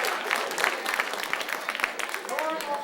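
Scattered applause from a stand-up comedy club audience in Indianapolis, a moderate burst of clapping lasting a few seconds with some crowd noise and a brief voice near the end.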